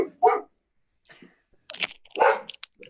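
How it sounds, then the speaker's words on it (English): A dog gives a few short, sharp barks with quiet gaps between them, fairly close in an otherwise still room at a bookstore. "that was a dog"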